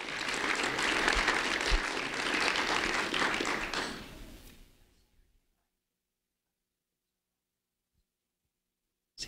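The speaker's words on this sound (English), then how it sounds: "a round of applause for Jillian Largo Morales" Audience applause at a school recognition event honoring a fifth-grade student, a dense burst of clapping lasting about five seconds before fading into silence, with a faint tap at the very end.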